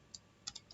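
Keys on a computer keyboard tapped during Python coding, a few quiet separate clicks spread over a brief moment.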